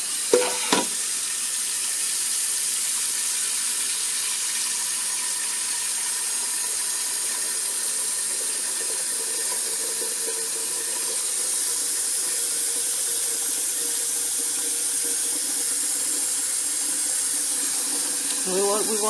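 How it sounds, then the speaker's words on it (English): Water streams steadily from a tap into a pot for a double boiler, a continuous hissing splash, with brief clinks of metal at the start and end. "We're going to put some water in here."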